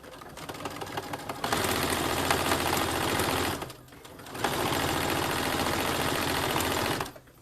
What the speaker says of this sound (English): I'm going to sew all the way to my other end. And back stitch.